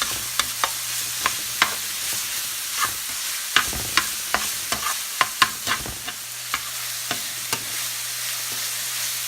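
Ground turkey browning in a pan, stirred with a utensil that scrapes and taps the pan in irregular clicks over a steady soft sizzle, close and alone.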